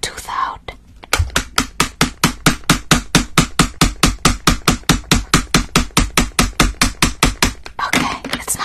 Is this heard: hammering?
yes